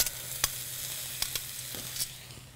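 Mushrooms and peppers sizzle steadily in a frying pan, a soft continuous hiss broken by a few sharp clinks and scrapes of stirring, close and with no one talking.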